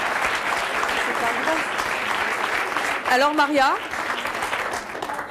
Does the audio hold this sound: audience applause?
yes